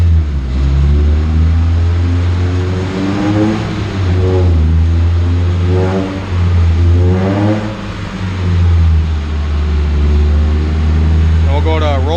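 A car on a chassis dyno during a road load test: a steady, loud engine drone that climbs in repeated rising revs and then settles back, close and continuous.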